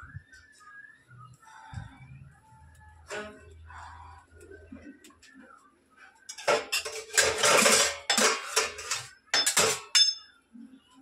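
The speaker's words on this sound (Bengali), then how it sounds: "গ্যাস পরিষ্কার করা, বাসন মাজা" Dishes, pots and pans being washed, with scattered soft clinks early on, then louder clattering bursts of metal utensils and splashing near the end, with faint bird calls in the background.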